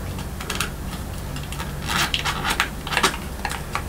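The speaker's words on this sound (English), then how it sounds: "we're going to have to just kind of ballpark it and cut the strings off" Strings being cut off a 1950s Magnatone Varsity lap steel guitar, a few sharp, close metallic snips and clicks spaced about half a second apart over faint background noise.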